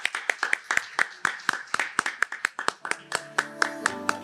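A small audience gives a round of applause for the panelists at the close of a venture capital panel session, with distinct, fairly sparse claps that are evenly spaced and nearby, and a faint tonal sound entering near the end.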